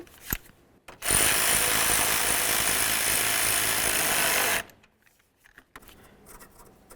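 A power tool snugs a bolt on a 2006-2010 Ford Explorer radiator, whirring in one loud, steady burst of about three and a half seconds, with quiet tool handling before and after.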